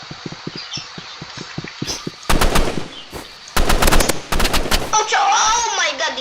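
Automatic gunfire from a weapon in the Roblox shooter Rivals rattles out as fast, loud bursts over a steady game background, with a brief pause between volleys and a faint quick ticking before them.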